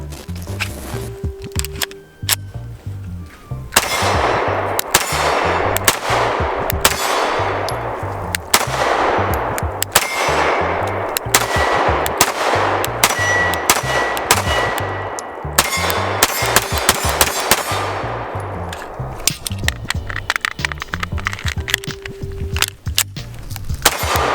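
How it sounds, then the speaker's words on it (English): CZ P-07 Tactical pistol firing unsuppressed, a long series of sharp, loud shots in irregular quick strings with short gaps, some faint metallic clinks between them. "let's get some shooting with this and then we'll suppress it and shoot a little bit more"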